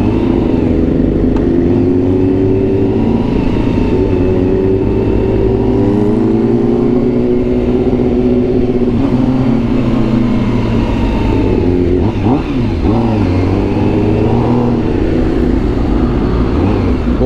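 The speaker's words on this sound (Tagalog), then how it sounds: "Ito kasing motor na yan, 10R dati ni Alexis yan." Engine of a Honda Fireblade 10R sport motorcycle running steadily with rising and falling revs, loud and close throughout without talk.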